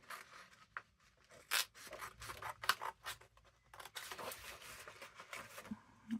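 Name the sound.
cutting out a section of a vintage book page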